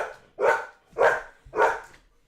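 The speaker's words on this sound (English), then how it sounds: "Dog. Teddy." A dog named Teddy barks three times, loud and close, with the sharp bow-wow calls spaced about half a second apart and short pauses of quiet between them.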